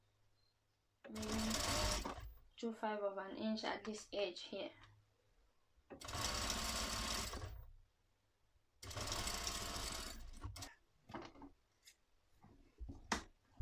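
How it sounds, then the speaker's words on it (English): A domestic sewing machine stitches boning down onto a corset in three separate bursts of rapid, close mechanical whirring. A person speaks briefly between the first two runs, and soft clicks follow at the end. "I'm sewing there on the boning. I'm sewing down."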